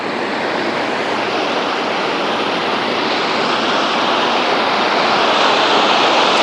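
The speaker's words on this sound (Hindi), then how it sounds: "मैं आपको झरना दिखाता हूँ एक बहुत प्यारा।" A waterfall at the Ancient City in Bangkok roars steadily and loudly throughout, a dense unbroken rush of falling water with no talk over it.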